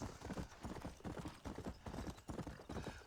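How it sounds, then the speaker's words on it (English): A horse gallops at full speed in the Western video game Red Dead Redemption, its hooves pounding out a fast, steady clip-clop rhythm that is loud, close and continuous, with no talking over it. "Look how fast this horse is, man."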